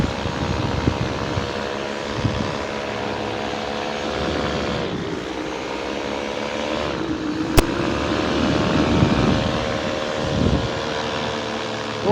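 A paramotor engine drones steadily through a sunset flight, a loud continuous propeller hum that shifts pitch slightly as throttle changes, with wind rushing alongside and no voices.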